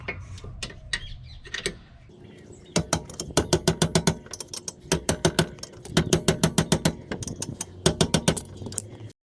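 A ratchet tightens bolts on the rear brakes of a 2010 Toyota RAV4, giving several quick bursts of sharp, rapid clicking close up, separated by short pauses.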